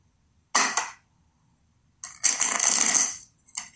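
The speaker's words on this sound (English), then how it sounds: "last shuffle, guys." A deck of tarot cards being shuffled up close, two crisp riffling bursts of papery flutter separated by short silences, with no talking.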